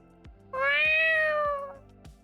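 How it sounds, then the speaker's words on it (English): A single clear cat meow rises and falls over about a second, close and distinct, with faint soft clicks before and after. "Just the meow."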